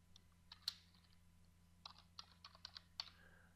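Keys click on a computer keyboard in short irregular bursts of typing, close but quiet, over a low steady hum.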